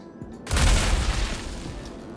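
Single heavy gunshot from the Fresnel Volt LMG in the Star Citizen video game, a sharp loud blast with a booming low tail that rings out and decays over the next second and a half, no talking.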